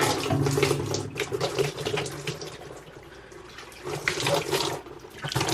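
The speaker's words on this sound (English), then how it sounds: "take the rest of your water and go ahead, start from the top and go down and pouring some water to clean everything" Water pouring from the top down over a washing machine fabric dispenser while cleaning it, a steady splashing flow that swells and eases over several seconds, close by with no talking.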